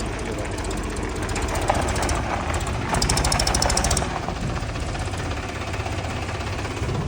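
A Mahindra Arjun tractor and a 2021 JCB 3DX backhoe running, a loud continuous diesel rumble with knocking, rattling engine texture and a brief rise in intensity midway, close by throughout.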